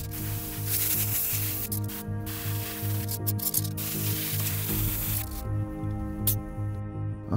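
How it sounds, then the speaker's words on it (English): Airbrush spraying orange paint onto a pilot figure from a Bandai Y-Wing model kit, a continuous close hiss with short breaks and bursts as the trigger is worked. "it's time to airbrush some orange onto my pilot"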